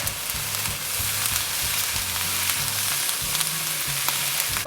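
Crab fried rice sizzles in a hot pan seasoned with Thai fish sauce, a bright steady hiss under repeated scraping, knocking stirs of the spatula, with no speech.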